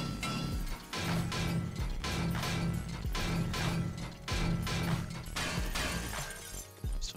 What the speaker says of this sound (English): Get the wrench going. Another mechanical part.